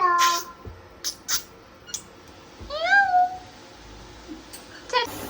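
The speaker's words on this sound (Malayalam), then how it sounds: "അപ്പം കാണാം നമ്മുടെ പൂച്ച വന്ന്." A cat meows a couple of times, close by in a kitchen, with quiet clattering and a faint voice around it.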